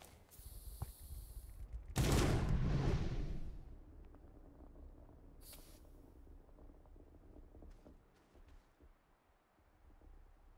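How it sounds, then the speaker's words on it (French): Grenades thrown and bursting in the space-exploration game Astroneer: a loud, sudden blast with crackling debris at about two seconds that decays over the next second, set against quiet wind-like ambience with a few faint later pops. "On se prend des lancers de grenades."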